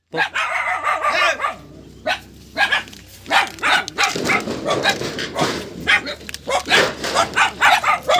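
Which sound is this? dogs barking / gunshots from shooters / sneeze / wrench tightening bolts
dogs barking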